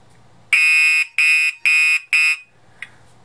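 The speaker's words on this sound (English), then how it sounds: "the smoke detector went right back into alarm because there's still some smoke in the chamber" A Radionics D7412G fire alarm panel goes back into alarm as its smoke detector re-triggers, giving four loud, piercing electronic beeps in a quick even rhythm, followed by quiet with a faint click.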